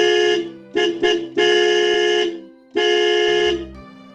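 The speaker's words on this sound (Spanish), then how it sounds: "Toqué la bocina con todas mis fuerzas." A car horn honks hard in a foggy scene, several loud blasts: a short one, two quick toots, a long sustained blare, then another long honk.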